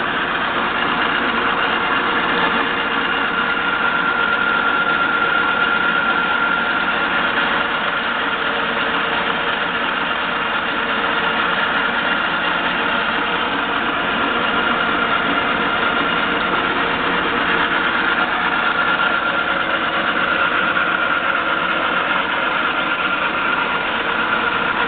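An ENCO 13x40 metal lathe runs in reverse with a steady, continuous mechanical hum and faint whine, fairly loud and close, with no talking.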